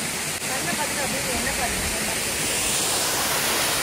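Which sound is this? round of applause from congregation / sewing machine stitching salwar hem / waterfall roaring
waterfall roaring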